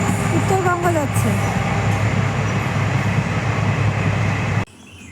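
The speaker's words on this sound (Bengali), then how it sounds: "কি মজা, বাড়িতে বসে বসে ট্রেন দেখছি।" A passing train heading toward North Bengal, heard from inside a house: a loud, steady rolling rumble of wheels and carriages that fills the scene, then cuts off abruptly near the end.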